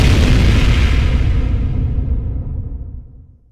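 A struck microphone capsule, processed into the tail layer of an explosion, roars as a loud dense rumble with a hissing wash that decays smoothly over about three seconds.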